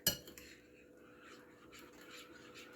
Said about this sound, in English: So we're going to mix this really well.